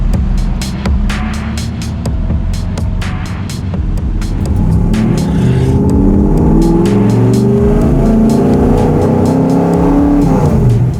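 A 1967 Ford FIA Fastback Mustang pulls away and drives, its engine loud and close with rising revs and gear changes that build toward a steady roar, with no talking.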